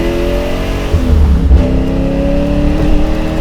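A supercharged Ford Boss 302 Mustang pulls hard under acceleration, its engine droning loud and steady with rising tones as it keeps building speed, heard from close by with no talking.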